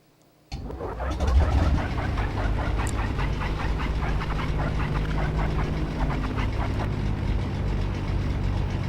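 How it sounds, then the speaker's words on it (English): A Beech Duke piston engine starts in the X-Plane 10.5 flight simulator, turning over with a sudden catch and settling into a steady, throbbing idle rumble that runs on continuously. "We got engine 2 going."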